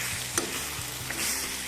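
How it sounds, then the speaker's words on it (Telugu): Chicken curry fries in oil with a close, steady sizzle and a few soft stirring knocks from the pan. "ఆయిల్తోనే ఫ్రై అవుతుంది ఇది కూర"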